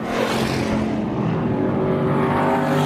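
Hobby-class race cars roaring past on a dirt oval track at Winnemucca, loud engine drones at high revs sweeping by up close, with a continuous heavy rumble and no talk over it.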